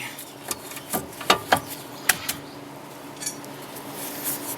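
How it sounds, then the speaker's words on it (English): An old metal tire spoon pries a part loose while rotors are replaced on a Ford Taurus, giving several sharp metallic clanks and taps, some clustered and others spaced apart, against quiet garage ambience. "And we just pry it loose. This is an old tire spoon"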